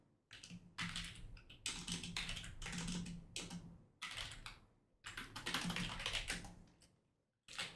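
Steady, close typing on a computer keyboard while coding a Python tutorial, dense bursts of key clicks separated by short pauses, with no speech.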